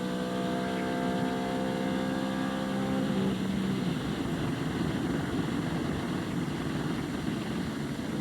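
A NASCAR stock car's blown engine at the 1999 California 500 winds down after being shut off, its droning tone fading over a few seconds into a rough, broad rumble of track noise.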